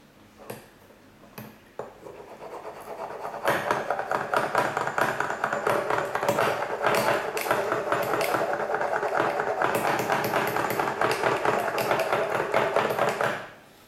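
English horn reed profiling machine scraping a cane reed, a dense run of rapid light rasping and ticking strokes that starts quietly and grows steady and close, continuing without speech before stopping abruptly.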